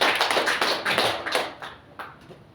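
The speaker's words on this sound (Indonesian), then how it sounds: "Kasih tepuk tangan." A church congregation applauds briefly at a sermon, a burst of many hands clapping close and loud that thins out and fades within a couple of seconds.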